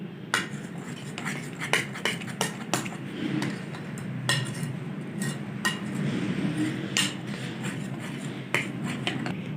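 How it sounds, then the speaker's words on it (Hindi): A spoon clinks repeatedly against a bowl while rava appam batter is stirred, sharp metallic ticks at an uneven rhythm over a soft, wet churning sound, close and moderately loud. "अच्छे से मिक्स कर लेंगे।"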